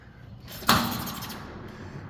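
A heavy M-Tek automotive spray booth door swings shut with a solid thud, followed by a short metallic rattle fading into room noise.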